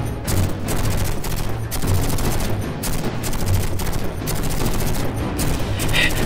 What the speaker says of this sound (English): Let's keep shooting into these floods.